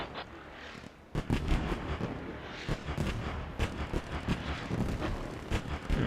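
Mortar shells burst repeatedly in a competitive military video game, a rapid series of loud, sharp booms over a constant rumbling battlefield background.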